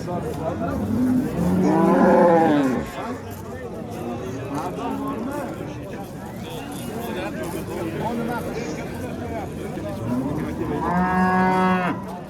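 Cattle moo loudly at an outdoor livestock market in Oltiariq, with two long, harmonic calls near the start and end, while people talk steadily through the crowd noise.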